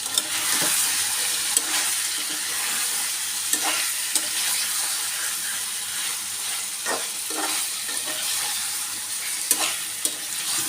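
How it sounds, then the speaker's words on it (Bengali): Desi chicken stirred and fried with salt, chili powder and other ground spices in a pan, a steady close sizzle with scraping stir strokes recurring throughout, no talking. "মুরগিটা আমি খুব ভালো করে কষাবো"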